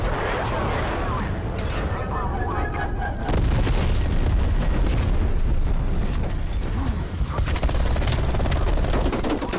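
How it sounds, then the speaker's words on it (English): A napalm strike erupts in the video game Call of Duty with a loud, sustained booming roar that swells partway through and keeps rumbling, while a voice talks over it. "I have a napalm. Throw this down."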